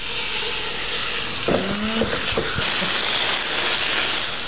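Beef sizzling in hot oil with sesame oil in a pan, a loud dense steady hiss filling the whole clip, with a few faint clinks and scrapes partway through.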